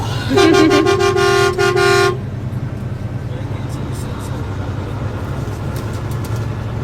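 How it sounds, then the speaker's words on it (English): A loud truck horn blares in short repeated honks for about two seconds from a truck in a moving convoy, then stops, leaving the rumble of traffic and engines. "I mean, you're pretty much obligated to honk."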